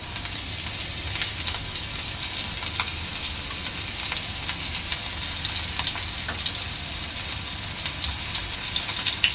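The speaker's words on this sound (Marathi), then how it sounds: "आता मी कोलबीला रव्याची आणि तांदळाची कोटिंग लावून घेते आणि हे तळते" Stuffed prawns coated in semolina and rice flour fry in hot oil on a flat pan, giving a steady, dense sizzle with crackling pops that continues unbroken and close throughout.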